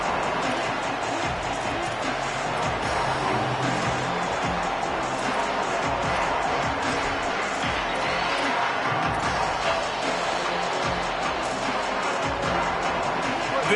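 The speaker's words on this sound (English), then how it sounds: "This crowd ready to make its presence known" Video game college football stadium crowd roaring and cheering steadily throughout, a dense, continuous wash of noise with a commentator's voice talking over it.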